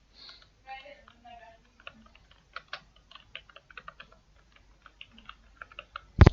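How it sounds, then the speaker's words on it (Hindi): Someone types on a computer keyboard while filling in an online scholarship application form, a run of quick, light, irregular key clicks close by, ending with a louder tap; a voice speaks briefly at the start. "यहाँ पे आपने अपना मेजर को टाइप करना है"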